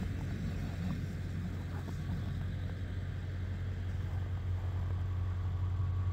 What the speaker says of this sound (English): And I know this truck's noisy